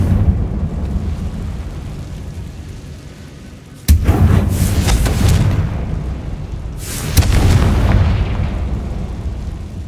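Two loud fiery spell blasts from Confringo in the Hogwarts Legacy catacombs, each bursting at about four and seven seconds with a booming crack and rumbling tail over a steady low ambient drone.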